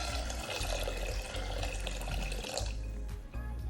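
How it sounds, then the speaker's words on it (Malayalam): Water is poured from a tap-like stream into a pressure cooker holding fenugreek and cumin for kanji, a steady gushing fill that thins to dribbles near the end, close and continuous with no voices. "ആവശ്യത്തിന് വെള്ളം ഒഴിച്ചു കൊടുക്കാം."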